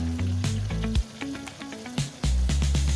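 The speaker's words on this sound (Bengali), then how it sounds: "আস্তে আস্তে ভাজা হচ্ছে।" Bhetki fish pieces fry slowly in hot oil in a wok, giving a soft, steady sizzle with crackling pops that swell and fade over a few seconds.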